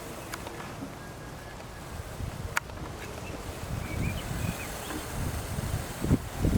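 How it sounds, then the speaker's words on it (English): Wind blowing outdoors in Galilee, a steady low gusty rumble buffeting the microphone with a few faint ticks and rustles, swelling slightly near the end, and no talking. "And we have a Galilean good wind."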